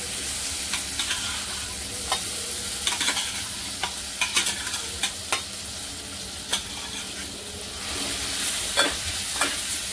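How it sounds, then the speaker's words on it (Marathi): Ground pigeon pea paste sizzles in hot oil while a spoon stirs it, producing a steady frying hiss punctuated by repeated sharp scraping clicks against the pan, close and clear with no talking. "मिक्स करून घेऊया, तेलामध्ये चांगलं परतून घ्यायचं आपल्याला"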